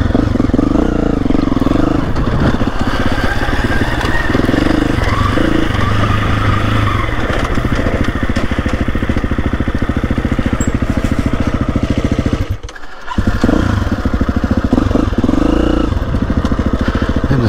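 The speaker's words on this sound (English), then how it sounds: "you'll be watching a bit of off-roading on the KTM" A KTM 350 EXC-F motorcycle rides off-road along green lanes, its engine droning loudly and continuously with a brief dip in sound partway through.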